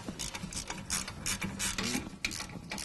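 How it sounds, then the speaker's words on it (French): A ratchet tightens wheel bolts on a Fiat 500 during rear disc and pad work, giving a close series of quick metallic clicking strokes in uneven bursts, with no talk. "Maintenant, vous allez devoir terminer votre serrage au cliquet."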